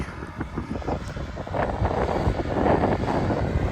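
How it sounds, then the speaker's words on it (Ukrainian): A EuroFeng 554 tractor sowing sunflowers with an SPU-4 seed drill drones steadily in a field under heavy wind rumble, the noise swelling slightly louder as it goes on. "Ось так от іде тракторець наш."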